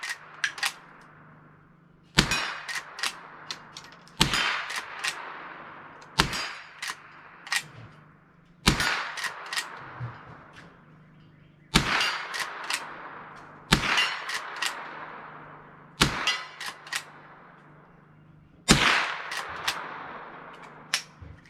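A Henry lever-action rifle fires .22LR rounds outdoors, about ten sharp cracks spaced roughly two seconds apart, each followed by a short ringing decay, with faint lever clicks between shots.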